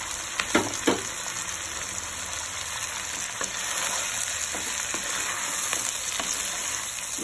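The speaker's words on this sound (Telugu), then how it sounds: "ఇవి హైలోనే ఫ్రై చేయాలి." Chopped onions and tindora fry on high heat in a pan, a steady bright sizzle running throughout, with a few sharp clicks of stirring near the start.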